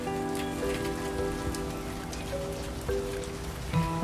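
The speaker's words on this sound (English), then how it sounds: "Look at these rain effects, dude." Steady rain pattering on surfaces in the airport management game Airport CEO, a continuous wash of drops over a low hum and faint tonal game music, with no talking.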